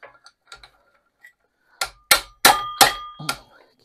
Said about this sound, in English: Keep bumping the flywheel.